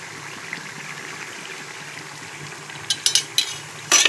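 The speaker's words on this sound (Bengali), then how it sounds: "এবার তেলের মধ্যে জিরে ফোড়ন দিয়ে দিই" Cumin seeds hit hot oil in a pan for tempering, making a steady low sizzle that breaks into sharp crackles and pops near the end, with no talking.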